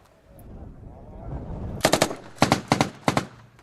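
Rapid machine-gun bursts from Syrian soldiers firing, loud and close: a few quick clusters of sharp shots separated by short gaps, following a low rumbling buildup with no talk.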